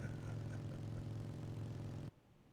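Steady droning kart engine from the video game Nightmare Kart, a continuous low buzzing hum at even loudness that cuts off abruptly near the end.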